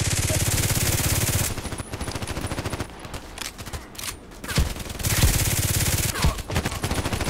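Gunfire in the shooter Contract Wars: rapid automatic bursts rattle loudly at the start and end, with scattered single shots and quieter gaps between.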